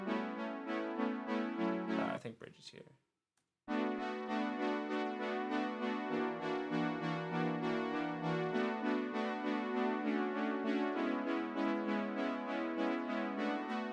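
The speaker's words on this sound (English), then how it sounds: "two of the voices of the CS80 panned, not fully evenly, but mixed evenly. So it's kind of creating a slight unison effect." Sustained Yamaha CS80 synthesizer tones, two voices panned slightly apart for a mild unison effect, play a bridge section. The rich, steady chords cut out briefly, then return loud and continuous.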